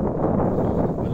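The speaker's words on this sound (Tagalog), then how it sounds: "Malakas yung hangin." Steady, loud wind rushing and buffeting the microphone outdoors between buildings near a supermarket, a dense low roar with no pauses.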